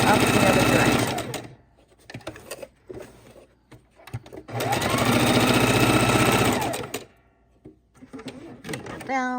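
Sewing machine stitching a raw-edge appliqué Halloween pumpkin, running in two long steady bursts with short stop-start runs between, loud and close, while someone talks over the pauses.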